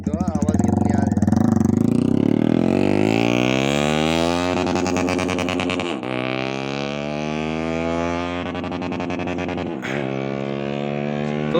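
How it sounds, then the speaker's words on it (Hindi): Yamaha R15 motorcycle fitted with an SC Project exhaust, running on a foggy morning with a loud bassy engine note that rises and falls through repeated revs and gear changes, with speech underneath. "बाइक स्टार्ट होने वाली है, देखते हैं साउंड कितनी आती है इसमें"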